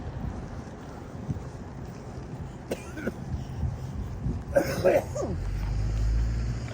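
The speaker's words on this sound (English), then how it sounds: "Why are you coughing?" A few short coughs break through steady wind and rumbling motor noise, with a sharper, throaty burst near the end.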